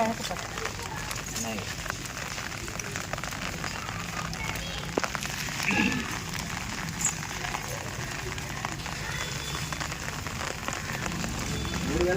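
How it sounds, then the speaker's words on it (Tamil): Steady rain falls throughout at a groundbreaking ceremony, a dense even hiss with occasional louder spatters. "மழை பெய்யுது"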